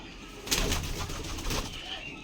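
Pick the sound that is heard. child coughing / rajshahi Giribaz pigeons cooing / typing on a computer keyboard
rajshahi Giribaz pigeons cooing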